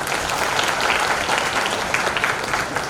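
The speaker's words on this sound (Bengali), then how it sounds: "এদের জন্য জোরসে একটা হাততালি।" Enthusiastic audience applause at a business gathering, dense continuous clapping filling the room at a steady level from start to finish.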